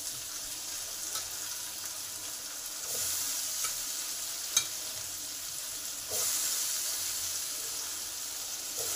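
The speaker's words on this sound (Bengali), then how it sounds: "একধারে আমার মশলাও কষা হবে আর সয়াবিনগুলোও ভাজা হবে।" Soybeans frying in a little oil alongside spice masala for egg curry make a steady, close sizzle, with a few faint utensil scrapes and clinks as the pan is stirred.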